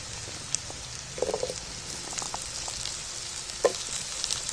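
Potatoes and onions sizzle in hot oil with green chillies while being stirred for a chicken dish, a steady hiss broken by a few soft scraping clinks near the pan.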